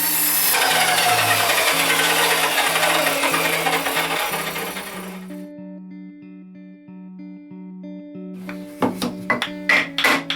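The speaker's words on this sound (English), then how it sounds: "The next thing was to cut the dados in the feet to form a cross by cutting halfway through each." A handsaw works through wooden bird table feet, cutting halfway dados with a loud rasping stroke that fades, then a quiet tonal pause before a quick series of sharp wooden knocks and taps.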